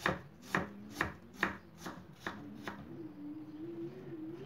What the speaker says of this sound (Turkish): Sonra şöyle ortadan bir tane geçtik ve yine aynen öyle çok ince bir şekilde doğruyorum.